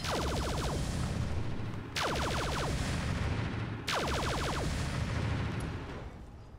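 Mech weapons in the video game Roguetech fire in three long, loud bursts, each a sharp crack followed by a rapid rattling volley that trails off, with brief pauses between salvos and no talking.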